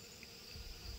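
Honey bees buzz steadily inside an opened hive box during queen caging, a faint, continuous low hum with no talking.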